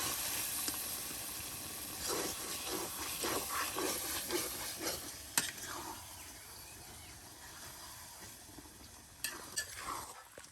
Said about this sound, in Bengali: এই যে দেখুন কত মাংস একসাথে মশলার সাথে কষিয়ে নেওয়া হচ্ছে